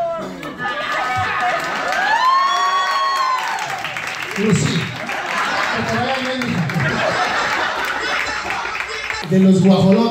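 Guests at Omar's birthday party in Tampico Alto, Veracruz, cheer, laugh and clap in a lively crowd, with chatter and shouts running throughout and a brief flare of voices near the end.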